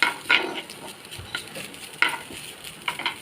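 Grated coconut fries in hot oil in a pan, a soft sizzle punctuated by several sharp stirring scrapes and clicks of a spoon against the pan, close and without talk.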